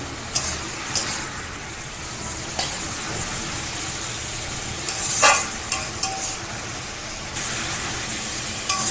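Rui fish with pumpkin greens frying in a pan as the water cooks off, a continuous sizzle with occasional sharp crackles and spatula scrapes close by.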